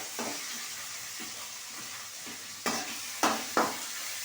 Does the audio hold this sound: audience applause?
no